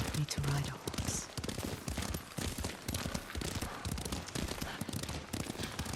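Horse hooves clip-clopping at a steady ride in the game Ghost of Tsushima, rhythmic thuds under a busy mix of game sound and a voice.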